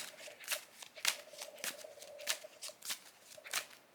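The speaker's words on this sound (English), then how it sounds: "I'll still shuffle because we're going to draw a card technically." A deck of playing cards is shuffled by hand during a card game session, giving a series of sharp, close riffling snaps in a loose rhythm, about nine distinct bursts over a few seconds with no talk.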